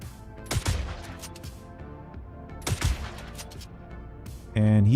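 Gunfire in the video game Star Citizen, two short bursts of shots at close range, each ringing out briefly, followed by a sudden sustained tonal electronic sound at the end.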